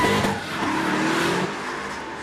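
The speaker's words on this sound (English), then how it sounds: "we've got another British Drift Championship car waiting patiently" British Drift Championship car drifting uphill through tree-lined S-bends at a hillclimb gathering, a loud, close burst of engine roar blended with tire squeal over about two seconds, easing slightly in the second half.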